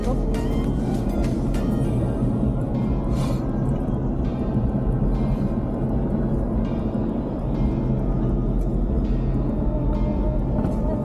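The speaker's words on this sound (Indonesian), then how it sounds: "Ini kita ketemu lagi dengan bis ANS guys." An ANS intercity bus rolls by on a West Sumatra highway, its engine and road noise a steady, loud rumble filling the whole stretch with little change in level.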